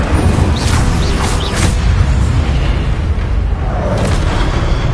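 A fiery Incendio spell blast from Hogwarts Legacy booms as a loud, sustained roar of flame and impact, with no speech over the burst.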